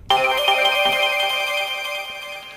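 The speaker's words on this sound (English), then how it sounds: "that's just going to kind of add, I don't know, some spacey ambiance to the song" A pitched-up sound effect sample gives a bright, ringing, bell-like tone with a spacey feel. It starts sharply, rings alone for about two seconds and slowly fades.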